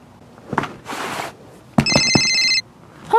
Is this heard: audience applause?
no